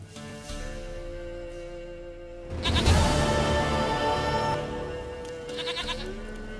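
Goat bleating in The Witcher 3, several nasal bleats over a sustained musical background, with the loudest call near the middle, heard close and without speech.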